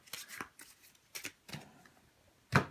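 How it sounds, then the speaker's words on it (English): A deck of encounter cards for a solo tabletop game is shuffled in several quick riffling bursts, with a louder, sharper flurry of cards at the end. "But then the rest of the cards just get shuffled back up"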